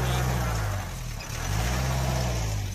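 A Honda car's engine labors in heavy snow on a road in Ladakh, with a steady loud rumble that dips briefly in the middle and then swells again.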